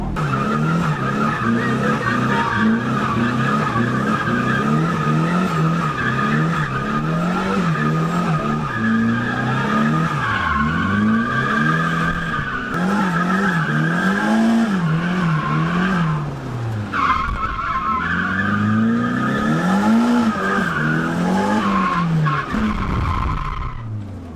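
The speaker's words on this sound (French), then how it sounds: "Est-ce que vous voulez voir cette voiture de travers sur cette piste?" A car drifts sideways around a track at a stunt contest, its tires skidding and squealing loudly and continuously while the engine wails up and down in pitch, close and sustained throughout.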